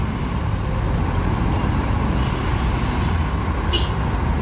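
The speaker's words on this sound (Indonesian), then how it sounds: "Ada bus Pahala Kencana ya teman-teman ya." Buses idle and rumble at a Palembang bus station, a heavy, steady low engine drone filling the yard, with a short hiss of air brakes near the end.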